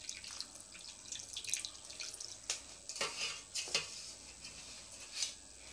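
Water is poured into a milk mixture in a pan while sweet pala puri is being made, landing as faint, scattered drips and small splashes in an otherwise quiet kitchen.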